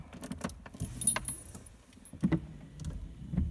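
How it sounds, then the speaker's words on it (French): Car keys jangle and clink in the ignition of a 1994 Renault Supercinq as the ignition is switched on, a string of light metallic rattles and taps, close and fairly quiet, with no voices. "Attendez, je vais mettre le contact."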